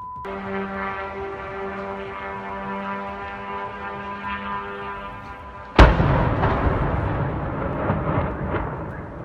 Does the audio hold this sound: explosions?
yes